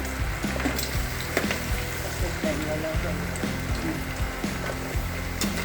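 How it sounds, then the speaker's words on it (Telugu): Amla (Indian gooseberries) fry in hot oil with a steady, soft sizzle and occasional pops, and a voice talks over it. "ఈ ఉసిరికాయలు కొంచెం రంగు మారే వరకు ఫ్రై చేసుకోవాలి"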